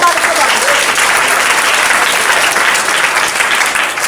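A church congregation applauds, dense and loud sustained clapping that fills the space with no break, voices mixed faintly within.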